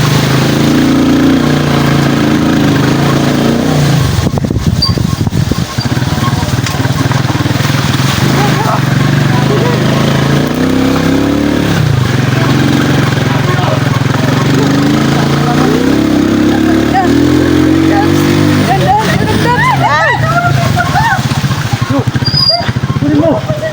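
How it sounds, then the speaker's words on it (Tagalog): Motorcycle engine running steadily while riding through mountain terrain, a loud continuous rumble that dips briefly and picks back up, with people talking over it throughout. "Nakasakay na tayo ng motor."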